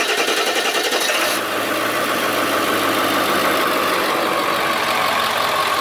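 Loud and near, a Ford 7.3 PowerStroke turbo diesel in a bus settles into a steady, even idle with a continuous clattering rumble after a slight change in tone early on.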